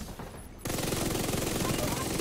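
Rapid automatic gunfire in The Division 2, a loud sustained burst of evenly spaced shots that starts suddenly after a brief quieter moment and continues to the end.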